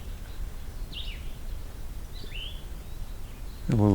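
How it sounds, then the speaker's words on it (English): A Pine Siskin gives two short, high, slurred zeet notes about a second apart near a meadow pond. A low, brief thump or voice cuts in at the very end over soft outdoor background noise. "A little zeet from Pine Siskin,"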